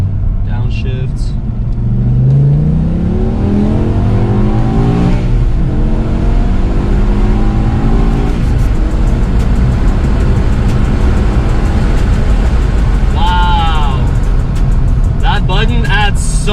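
A BMW E63 M6 engine roars loudly and revs up and down through downshifts, close and continuous, with a voice speaking over it.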